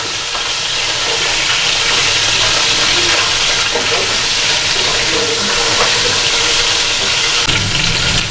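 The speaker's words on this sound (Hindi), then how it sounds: "इसे हम 2 मिनट तक भूनते हैं" Goat trotters fry in a pan with ginger garlic paste, salt and turmeric, giving a steady, loud sizzle and hiss that runs unbroken throughout with faint clinks of stirring.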